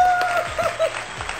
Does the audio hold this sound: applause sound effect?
yes